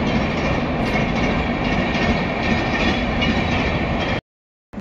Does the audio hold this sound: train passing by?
yes